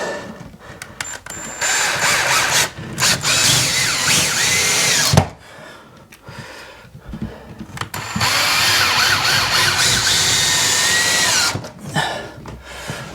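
Cordless power drill driving small screws into wood while fitting shed furniture, with two long whirring bursts separated by short pauses and brief clicks, loud and close with no talk.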